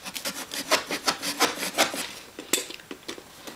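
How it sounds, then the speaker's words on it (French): The bottom of a cardboard box is cut with quick, rhythmic rasping strokes up close, a steady back-and-forth scraping that slows into a few separate scratches at the end. "on va couper le fond de la boîte et uniquement le fond"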